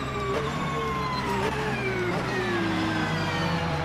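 Porsche engine in the racing game Assetto Corsa, a steady drone whose pitch glides slowly downward as the engine winds down, continuous and fairly loud with no talk.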